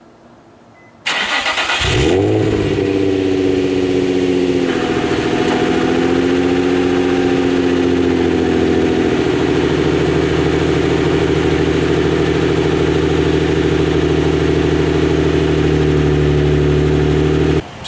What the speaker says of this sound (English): Just letting the car warm up now so I give you guys some revs.